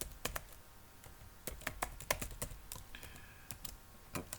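Typing on a computer keyboard, a quick irregular run of sharp key clicks with brief pauses, close and clear, no talking.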